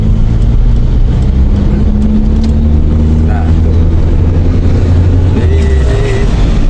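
A 1981 Toyota Corolla DX with a carburetor engine runs loud and close, a steady low rumble with slight swells, while someone talks over it.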